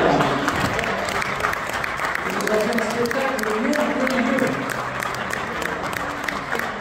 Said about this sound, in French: n'hésitez pas à applaudir pour remercier le RC Park